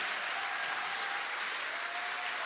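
An audience claps for the choir after its opening performance at a talk concert, steady dense applause from a large crowd filling the whole moment at an even, moderate level.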